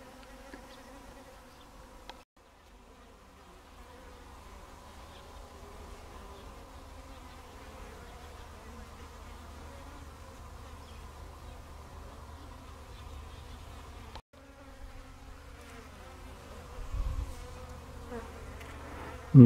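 Honey bees fly around their hives on a February day after a night frost, a continuous soft buzzing hum of many insects close by, steady throughout with brief dropouts and a few nearer passes.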